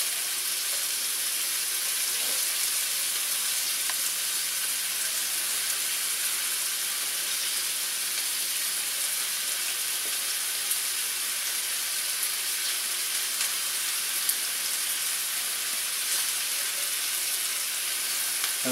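Meatballs fry in a pan with a steady, dense sizzle and hiss that runs unbroken and fairly loud the whole time, with no voices over it.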